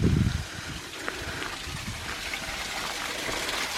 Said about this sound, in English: Water running down here.